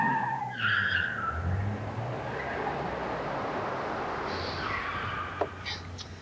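A Kia Sorento SUV with a V6 engine making a sharp turn, its tires squealing and skidding in a long, smeary screech over steady road noise, at moderate distance with no talk.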